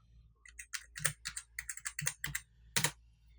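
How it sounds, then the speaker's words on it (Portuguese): A password being typed on a computer keyboard: a quick, uneven run of close, crisp key clicks in short bursts, with a slightly heavier keystroke near the end and no talking. "Vou digitar a senha que eu digitei."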